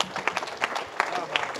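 An audience claps during a church gathering, a short burst of irregular hand claps, moderately close and fairly faint, with voices mixed in.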